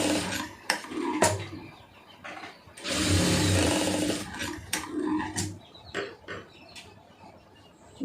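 A sewing machine runs a short burst of stitching on a Poonam saree, its dense whir lasting just over a second between irregular knocks and rustles of fabric handling.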